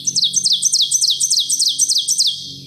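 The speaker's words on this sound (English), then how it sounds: "it turns out this was something called an oven bird" An ovenbird, a ground-nesting warbler of Appalachian woods, sings a loud, close series of rapid repeated two-note phrases that run evenly for a couple of seconds.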